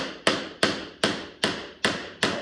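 Six evenly spaced sharp knocks on the solid wooden hull of a 1969 Glasspar Tacoma 14 boat, each a hard impact with a short ringing decay, struck at a steady rhythm close by with no voices.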